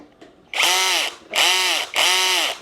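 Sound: electric drill with clutch driving screws into a wall panel

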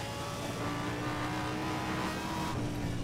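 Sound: Audi R8 LMS Ultra engine in video game Need for Speed World

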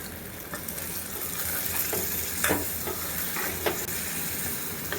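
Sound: water poured into frying curry

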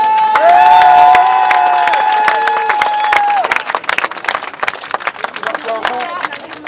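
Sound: crowd applauding at a Gilets jaunes rally in Toulouse

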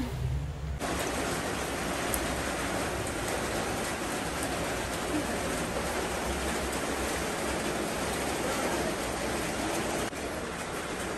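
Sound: rain leaking inside house, water dripping in kitchen

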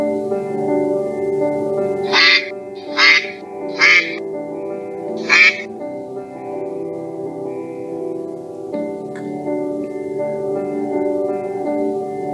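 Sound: ducks quacking

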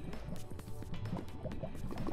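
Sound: drinking fresh water in video game TerraFirmaCraft

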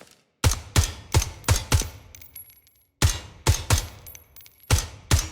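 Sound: gunfire and bullet ricochets, video game

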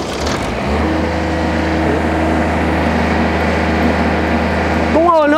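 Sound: Japanese diesel generator engine running

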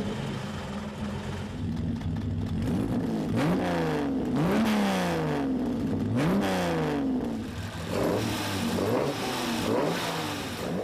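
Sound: Aston Martin DB4 GT Zagato 3.6-litre engine roaring

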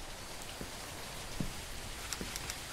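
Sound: rain in a horror video game

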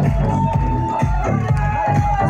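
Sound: crowd applauding and cheering

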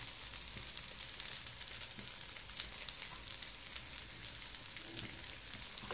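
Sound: sizzling of chard and coriander frying in a pan

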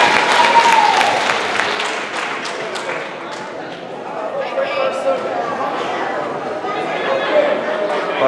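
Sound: audience clapping and cheering

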